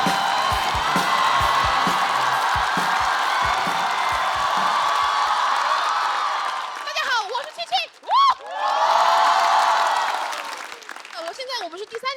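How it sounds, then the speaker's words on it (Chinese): Studio audience at a Chinese stand-up comedy show applauds and cheers loudly for a comedian taking the stage, a dense sustained wash of clapping with whoops that breaks off near the end, leaving a few shouts and scattered cheers. "掌声欢迎"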